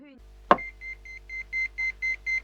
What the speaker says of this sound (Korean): 그 순간 불길한 삐삐 한 통이 오게 되고